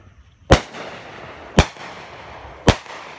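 Three sharp, loud firework bangs burst at roughly one-second intervals during an outdoor firework competition, each a hard crack with a short fading tail and no talk in between.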